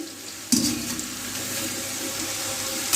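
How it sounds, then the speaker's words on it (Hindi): Macaroni for an iftari snack, coated in maida and cornflour, drops into hot oil with a sudden hissing burst, then fries in a steady, close bubbling sizzle that holds evenly to the end. "अब हम इनको फ्राई करेंगे"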